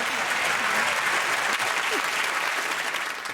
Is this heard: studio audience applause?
yes